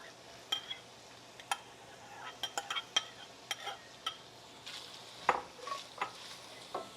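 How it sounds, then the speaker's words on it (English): Vegetables stirred into browned sausage in a skillet, with soft sizzling under scattered clinks and scrapes of a utensil against the pan, close and irregular. "we're going to go ahead and add our vegetables in here"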